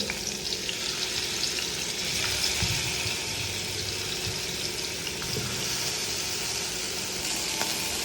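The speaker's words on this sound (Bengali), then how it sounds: "তেল গরম হয়ে গেছে এখন দিয়ে দিব কুচিয়ে রাখা পেঁয়াজ আর রসুন" Close, continuous sizzling and crackling of chopped onion and garlic frying in hot oil, with no voices.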